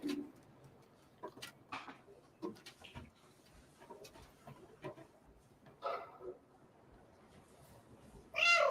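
A cat character in a cat video game meows several times, short mid-pitched calls spread through quiet game ambience, with a louder meow near the end.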